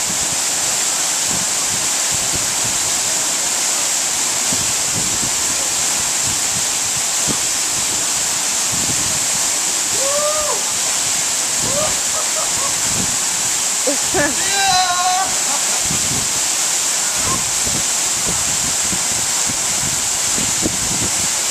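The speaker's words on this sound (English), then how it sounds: "we're here at the Dartview Falls in North Leeward" Steady broadband roar of the Dartview Falls waterfall in North Leeward, constant and enveloping throughout, with a few brief voices and whistles rising faintly above the rushing water midway.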